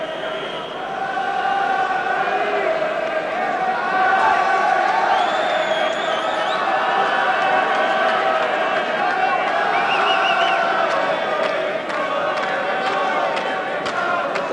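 A large boxing crowd at the Albert Hall in London roars and cheers before a 1984 featherweight bout, a dense, sustained wall of voices with whoops and shouts, steady throughout.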